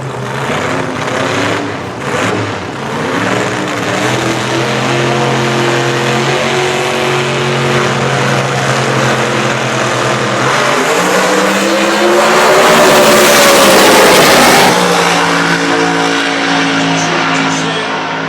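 Drag race cars at the 2013 Winternats, one an orange Willys, launch with loud roaring engines that rev and climb in pitch, producing a dense, sustained mechanical blare close by.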